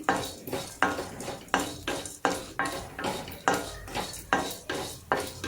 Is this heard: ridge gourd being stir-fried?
yes